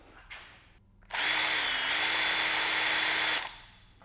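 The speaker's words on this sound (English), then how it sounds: "How about a cordless impact?" A cordless impact driver in a shop runs in one continuous high-pitched whine for a little over two seconds, loud and close, with a brief pitch shift partway through and quiet room tone before and after.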